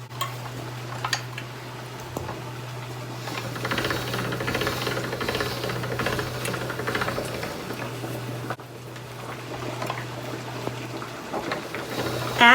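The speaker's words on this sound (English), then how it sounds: "you are then going to begin rolling it through, and as it gets to the end, tightening up the wheel until you get down to about a 3." Hand-cranked pasta machine rolling homemade pasta dough through its rollers, a steady low mechanical whir and grind running continuously throughout, close and moderately loud with no talking.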